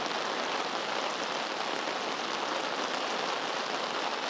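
Heavy rain pours down in Geylang, Singapore, a dense, even hiss of drops hitting surfaces all around, steady and loud with no voices.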